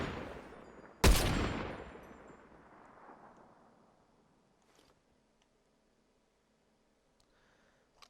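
A single loud sniper rifle shot in Fortnite cracks sharply and rolls into a long echoing tail that fades over a few seconds, followed by faint distant shots and small clicks.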